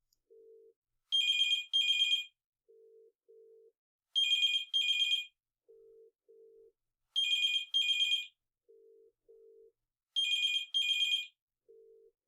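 A telephone ringback tone heard when calling a restaurant: four evenly spaced double rings, each followed by quieter low tones, clean and alone with no voices.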